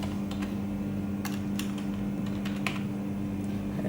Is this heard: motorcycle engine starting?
no